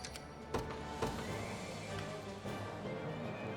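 A horse whinnies in the video game Unicorn Overlord amid a busy, noisy background, with a couple of sharp thumps early on.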